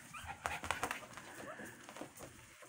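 Hungry two-week-old puppies whimper and squeak in short, thin bursts, quiet and close, with a few soft sounds of movement around them.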